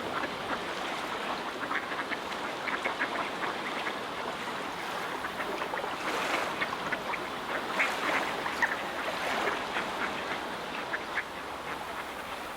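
Mallard ducks on water quack faintly and intermittently over a steady wash of flowing water and outdoor ambience.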